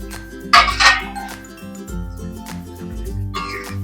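A lid lifted off a pan of fish curry made with mustard and brinjal, giving two bright metallic clinks close by over a low steady simmer and hum.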